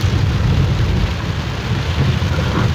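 Heavy rain pours down on a street in Rivera, Uruguay, with near-zero visibility and traffic dodging potholes; a loud, dense, continuous roar of rainfall with low rumbling underneath, no voices.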